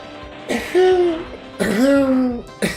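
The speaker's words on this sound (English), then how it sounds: "I'm really trying not to cough" A person clears their throat and coughs in a few rough, voiced bursts with short gaps between them, close and fairly loud, with no speech.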